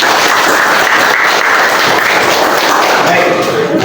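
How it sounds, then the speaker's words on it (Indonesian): Students in a classroom at an Islamic junior high school, during a fiqh lesson, clap their hands together in a loud, dense burst of applause that fills the room without letup. "Tepuk tangan."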